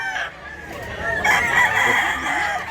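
A rooster offered for sale crows loud and close in one drawn-out call that swells and then trails off, preceded by a few shorter clucks.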